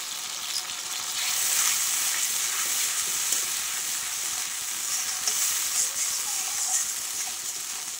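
White mustard and chili paste, ground and loosened with a splash of water, sizzles steadily in a pan for a fish curry while being stirred, a continuous close hiss with faint scraping and no talking.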